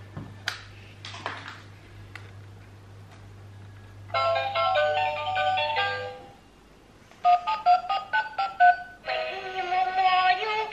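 A toy telephone plays short electronic dialing beeps, then bright chiming melody phrases that start and stop, close and clear over a quiet room.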